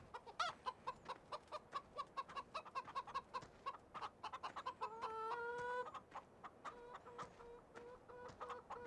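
Chickens cluck repeatedly in a quick, steady patter in the video game Landwirtschafts-Simulator 17, with a brief rising squawk midway; the birds sound close and fairly clear, with no talking.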